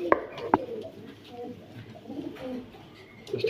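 A male Teddy pigeon held in the hand coos in soft, low, throaty phrases, with two sharper bursts near the start, close to the listener.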